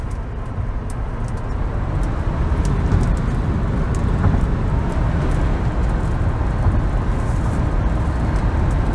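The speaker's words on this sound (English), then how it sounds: "This is sheets of rain and wind coming down." Heavy rain and wind batter a car driving through a derecho storm in Wisconsin, a dense, loud, continuous roar of water and road noise with no letup.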